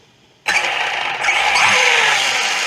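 An RC car's electric motor kicks in abruptly at full throttle with the rear wheels spinning, a sustained high whine that holds and builds slightly over a few seconds.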